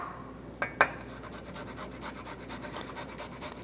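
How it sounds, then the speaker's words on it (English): Fresh ginger is grated on a microplane for a sauce: two sharp taps, then a steady run of quick, soft, rhythmic rasping strokes, close and quiet, with no talk. "I'm going to be using a microplane to grate the ginger into my sauce"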